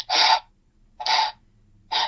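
A human voice imitates an animal panting with three loud, breathy, raspy huffs spaced about a second apart, close and alone over a quiet low background hum.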